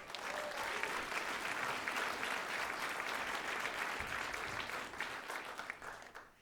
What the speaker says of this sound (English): Let's give Caitlin one more round of applause.